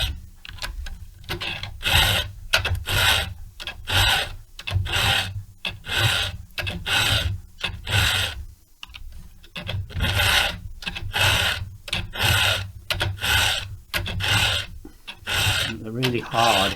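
Rhythmic rasping of a hand file sharpening a Stihl chainsaw chain for a 070/090 saw, converting full chisel to a milling angle; steady back-and-forth strokes, close and loud, about one per second.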